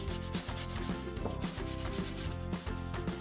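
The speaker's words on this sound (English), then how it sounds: "You have to be very careful while grating potatoes because you might hurt your fingers" Potatoes rubbed by hand over a grater, giving loud, close, rhythmic rasping strokes in quick repeated passes with short pauses between them.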